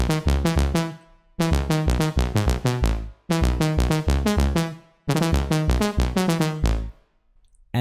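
Dry lead synth for future trance with its effects switched off, playing four bright, punchy phrases of short staccato notes, each phrase stopping abruptly before the next begins, loud and alone.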